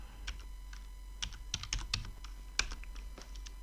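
Code being typed on a computer keyboard: quick, uneven bursts of close, crisp key clicks with short pauses, no talking.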